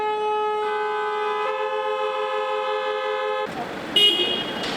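Car horns sound in sustained steady blasts on Calle Amaya, a city street where access for private vehicles has changed, followed by a burst of traffic noise and another short honk.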